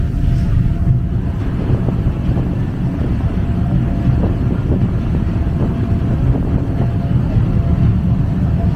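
A fast ferry to Georgetown, Penang drones steadily underway, with constant low rumble, rushing water and wind buffeting the microphone throughout.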